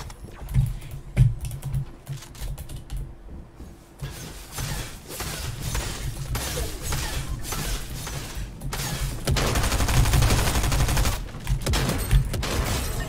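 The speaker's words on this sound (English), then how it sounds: "Man's shooting the whole place down." Sustained gunfire from Fortnite Chapter 3 Season 1 gameplay, a dense rapid crackle of shots that runs almost unbroken through the whole stretch and grows louder and fuller near the end, with no talk over it.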